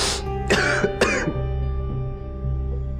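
A couple of rough coughs with throat clearing near the start, followed by a quiet stretch of low steady hum.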